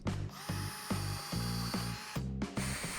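A power drill whirs in short repeated bursts as screws are driven into the wooden legs of a picnic table, close and loud, with brief pauses between each run.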